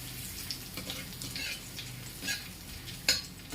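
Whole garam masala, bay leaf and chopped ginger frying in ghee, a soft steady sizzle with light stirring scrapes and a sharp utensil clink near the end.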